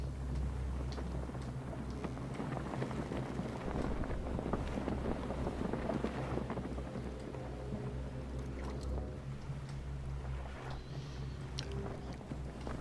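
A sailboat crosses open sea in the survival game Stranded Deep, with a steady rush of wind and water washing around the hull, continuous and fairly even throughout.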